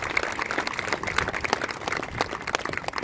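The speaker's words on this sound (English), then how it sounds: "Let's give Region 82 a round of applause for helping to start the success of that program." An audience claps steadily at a youth soccer season dedication for Santa Paula AYSO Region 82, making a dense, even patter of hand claps from a crowd throughout.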